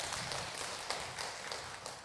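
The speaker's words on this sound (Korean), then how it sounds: "영광의 박수 올리겠습니다." A church congregation applauds during a Sunday morning worship service, a steady wash of many hands clapping at a distance, fairly soft and even throughout.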